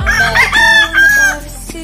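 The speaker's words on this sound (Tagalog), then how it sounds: "marami namang mga manok" A rooster crows loudly and close by in a backyard full of chickens, one long wavering call that fades into soft clucking.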